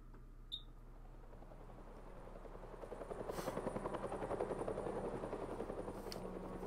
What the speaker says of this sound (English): Whose helicopter is that? Is that a news helicopter?